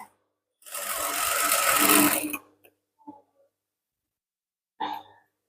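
A sewing machine runs in one continuous burst of about two seconds while stitching a gown, followed by a few brief handling knocks and a short clatter near the end in an otherwise quiet room.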